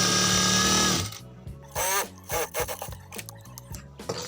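Sewing machine stitching over the elastic waistband of trousers: a loud steady whir for about a second, then short bursts of stitching with pauses and handling noises between them.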